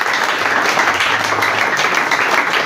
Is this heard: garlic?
no